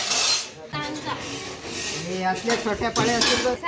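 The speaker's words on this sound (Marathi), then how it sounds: "जेवण करण्यासाठी भांडी जी लागतात ती देवळातून भेटतात आणि इथून सगळे भांडी काढतात" Large metal cooking pots and utensils for a village wedding in Konkan clank and clink as they are handled and carried, with irregular metallic knocks and ringing and people talking in the background.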